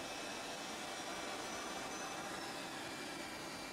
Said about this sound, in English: all doors and hatches are closed and you're clear to start engine 2